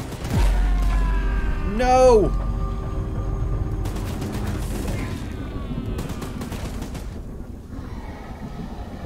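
A mounted gun fires in the game Choo-Choo Charles, bursts of rapid shots cracking in clusters amid mechanical clatter and a rising whine, while a voice shouts briefly.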